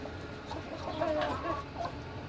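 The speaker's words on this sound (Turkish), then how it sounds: "Şu Red Island benim canım horozum." A Rhode Island Red rooster clucks a few short, throaty notes close by over a brief moment of farmyard background.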